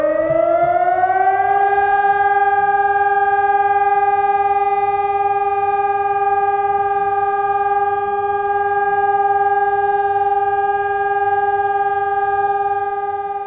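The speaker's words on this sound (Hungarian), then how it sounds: "30 másodperces folyamatos, állandó hangmagasságú szirénahang" A civil defense siren on a city hall building in Nyíregyháza sounds during a test, rising briefly then holding one loud, steady, continuous tone with no talking.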